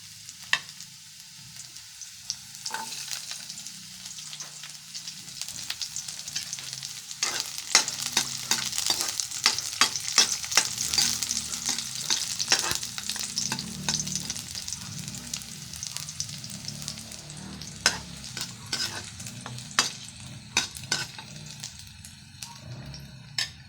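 Garlic sizzles steadily in oil in a pan while being stirred for pork adobo with string beans and potatoes, with frequent sharp scrapes and clicks of the utensil over a continuous frying hiss, close and fairly loud, no voices.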